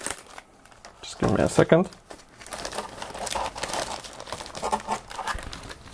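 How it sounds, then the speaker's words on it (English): A plastic bag holding decal sheets for a 1/48 scale model kit is crinkled open close up, with a burst of loud crumpling and rustling, then softer handling sounds while a person speaks. "Now I'm going to open another plastic bag."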